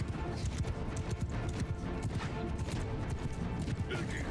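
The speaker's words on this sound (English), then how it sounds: "There comes a rear charge with cavalry." Cavalry horses gallop in a Mount & Blade II: Bannerlord battle, a steady drumming of many hooves under battle clatter and mixed game sounds throughout.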